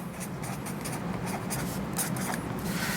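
The word production is written on a board in a classroom lecture: continuous close scratchy marker or chalk strokes with no talking.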